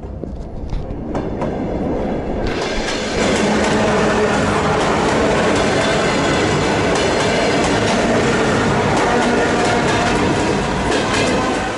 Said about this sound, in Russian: Как раз будет мимо нас проезжать последняя электричка со станции